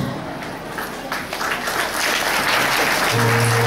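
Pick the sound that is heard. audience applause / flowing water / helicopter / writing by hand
audience applause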